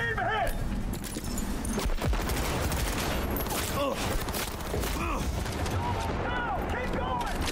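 Rapid assault rifle fire in Cyberpunk 2077, dense continuous bursts of close gunshots with game effects, while someone talks over the shooting.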